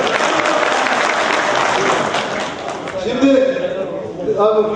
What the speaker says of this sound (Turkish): Ben bu genel kurulda bir İbrahim arkadaşımızı alkışlıyorum arkadaşlar.